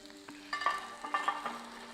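Vegetables for a vegetarian Thai green curry with brinjal being tossed in a hot pan, giving soft sizzling and frying with scattered stirring clatters over a few seconds, no talking.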